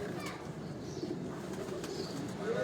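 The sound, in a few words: pigeons cooing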